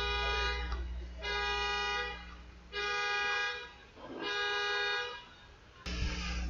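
A car horn honks outside in four long, steady blasts separated by short gaps, loud and sustained, followed by a brief sharp knock.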